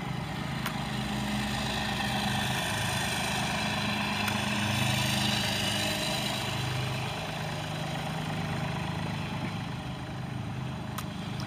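A 2023 AGROTK NT45 mini excavator with a backfill blade idles steadily up close, its low engine rumble holding an even, continuous drone without any voices over it.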